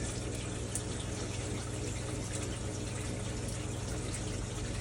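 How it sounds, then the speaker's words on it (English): Water drains steadily into a shower and splashes with a constant rushing flow, close by and unbroken, with no speech. "the water is currently emptying out into the shower"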